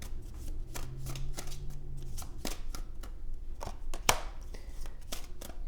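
Tarot cards shuffled and drawn by hand at close range, a steady riffling and sliding of the deck with sharper snaps as cards are flicked, no one speaking.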